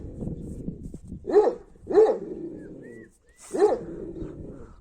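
Deep, husky barks from a female Kangal dog, three loud separate woofs spaced about a second apart, with a gruff growl-like rumble between them and no one talking.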